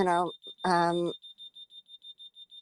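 A steady series of short, high electronic beeps repeats evenly, following a person speaking briefly at the start.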